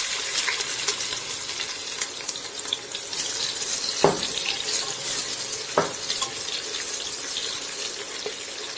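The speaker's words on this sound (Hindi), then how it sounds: "प्याज को हल्का गुलाबी होने तक फ्राई करेंगे।" Onions fry in about 100 grams of hot oil in a pressure cooker, giving a steady bright sizzling hiss with two sharp clicks of a utensil partway through and no voices.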